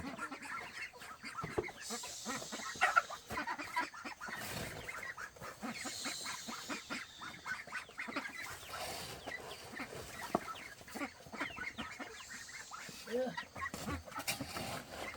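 Ducks clamoring as they are fed a bran mash by an old woman, with busy quacking and fowl calls all through, a voice talking over them.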